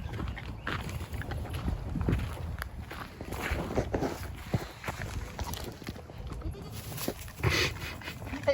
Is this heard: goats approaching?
yes